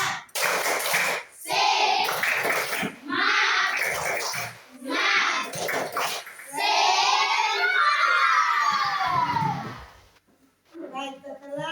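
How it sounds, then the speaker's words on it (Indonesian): Classroom of students performing a rhythmic clapping chant, patterned claps in bursts alternating with shouted group vocals, followed by a teacher speaking. "Kita tepuk semangat untuk semua dulu."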